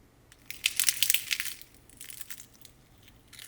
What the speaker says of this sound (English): that is a nice crispy taquito